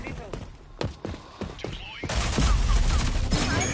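Gunfire in the online shooter Rogue Company, a run of sharp separate shots followed by a heavier continuous burst of rapid firing, loud and close.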